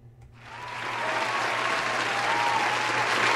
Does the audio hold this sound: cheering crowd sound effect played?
yes